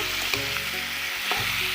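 Chicken skin and chopped onions sizzling in a pan as water goes in, a steady close frying hiss with a couple of soft stirring knocks, no talk.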